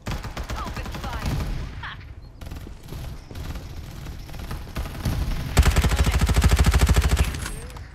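Gunfire rattles in the battle royale game PUBG, with scattered shots followed by a loud, rapid automatic burst near the end, mixed with game effects and brief voices.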